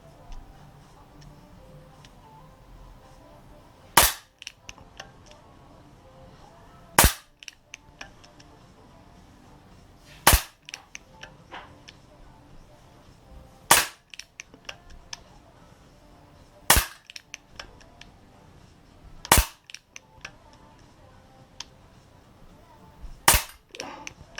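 Eight sharp, loud shots from an Artemis CP400 4.5 mm CO2 air pistol, spaced roughly three seconds apart, with faint clicks and handling noise between them and no speech.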